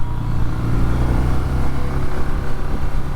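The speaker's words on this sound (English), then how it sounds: "That was my first ride of the BMW R12S." A BMW R 12 S motorcycle on the move, its engine a loud, steady low rumble mixed with wind noise, continuous throughout with no talking.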